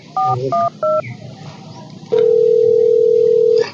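A telephone being dialed: three short keypad tones beep in quick succession, followed after a pause by a long steady dial tone, loud and close with no talking.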